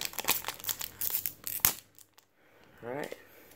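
Crinkly foil wrapping of a Buddyfight Ace trading card pack is rapidly crumpled and torn open, close and loud, followed by a brief spoken word once the rustling stops.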